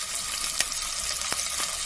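Ginger sizzles steadily in hot oil in a soup pot, a dense, even frying hiss with a few faint clicks and pops throughout.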